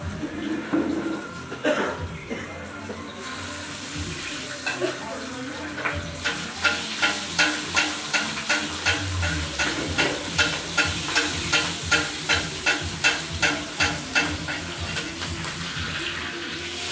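Hilsa fish sizzling in hot oil at a riverside ghat eatery, with a steady frying hiss that runs through the clip and rhythmic stirring or scraping strikes repeating about twice a second in its second half, under busy background chatter.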